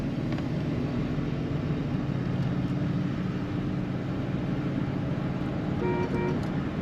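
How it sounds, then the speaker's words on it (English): A 1977 Lincoln Continental Mark V cruises on the road, its steady low engine and road rumble droning evenly and continuously from inside the cabin, with no voices. "Very smooth running car, smooth riding car."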